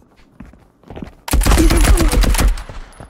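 Rapid automatic fire from a drum-magazine gun in a raid video game, a loud sustained burst of shots that starts abruptly after a few quiet footstep-like taps.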